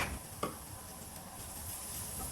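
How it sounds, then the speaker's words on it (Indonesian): Garlic sautés in frying oil in a wok, a steady soft sizzle and hiss with a brief clank of a utensil near the start, close up and moderately quiet, no voices. "kita tumis bawang putih yang sebagian"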